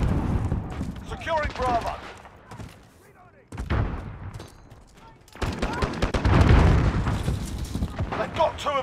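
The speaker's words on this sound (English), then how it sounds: "Grenade out!" A grenade explodes amid bursts of rapid gunfire in a shooter video game, with loud blasts and crackling shots while a voice calls out over the action.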